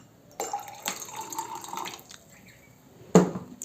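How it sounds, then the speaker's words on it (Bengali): Hot water pours into a drink of lemon juice and water from soaked dates, raisins and almonds, giving a soft trickle and splash that rises and fades, then a sharper splash near the end. "গরম পানি মিক্সড করব"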